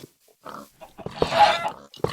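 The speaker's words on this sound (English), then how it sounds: "I'm hitting a pig." A pig in Minecraft gets hit and lets out short, close, repeated grunting oinks. Other game noises come in quick bursts around the squeals.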